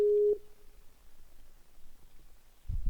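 A single short, steady telephone tone sounds while calling Cyrano, then cuts off into near silence with faint rustling toward the end.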